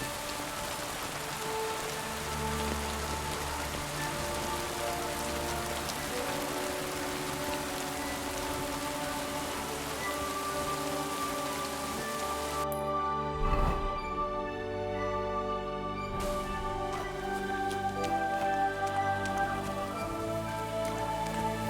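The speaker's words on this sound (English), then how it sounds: "hissing down rain." Heavy rain in Kingdom Come Deliverance 2, a loud continuous hiss of downpour layered with tonal game ambience, briefly thinning midway before the steady pour resumes.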